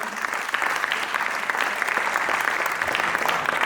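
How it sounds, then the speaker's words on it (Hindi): Theatre audience applause for a stage actor at a play in Patna, dense continuous clapping from a large crowd, even and sustained throughout. "एक बार जोरदार तालियां"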